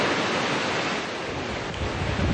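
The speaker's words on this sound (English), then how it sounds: "That was Hay Creek in Birdsboro. The water rising even as Hurricane Irene moves out of the area." Floodwater of Hay Creek in Birdsboro, rising after Hurricane Irene, makes a loud, continuous roar of rushing water with no break and no voices.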